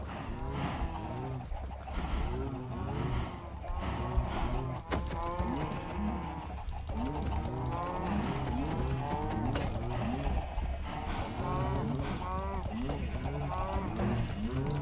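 In the Minecraft video game, cows moo again and again as they are slaughtered, the game's drawn-out lowing calls overlapping in a dense, continuous chorus with faint mechanical clicks underneath.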